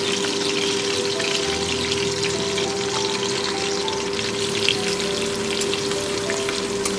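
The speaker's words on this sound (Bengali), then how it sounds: "কিছুক্ষণ আমি এটা ভালো করে ভেজে নেব" Slit green chillies and chopped garlic fry in oil with black cumin and a dried red chilli, giving a steady loud sizzle with fine popping crackles throughout and a faint hum beneath.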